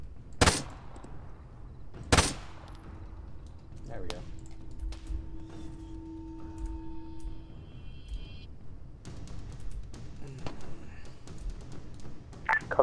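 Gunfire in Arma during a Zeus-run military operation: two sharp, loud shots crack out early, then scattered fainter reports follow, with people talking over much of it.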